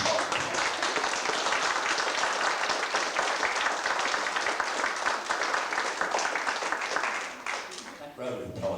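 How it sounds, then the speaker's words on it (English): An audience at a school past pupils' reunion applauds, dense sustained clapping running for several seconds before it tapers off and breaks up near the end. "That round of applause says it all"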